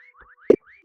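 Whistling in the video game Meccha Chameleon: a few short rising synthetic whistle tones in sequence, with a brief soft thump in the middle, fairly quiet and without speech.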